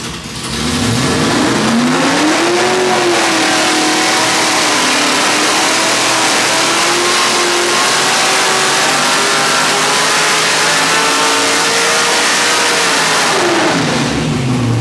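A 363 cubic inch small block Ford V8 built for 8,000 rpm revs hard on an engine dyno, its loud sustained roar climbing and holding high rpm for most of the run before dropping off at the end.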